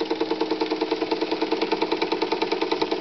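A Jenson Model 75 model steam engine runs steadily, giving a fast, even, rhythmic chuffing and mechanical knocking at close range, with no talking.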